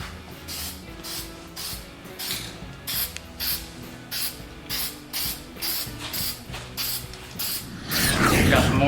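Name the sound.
spray painting small engine parts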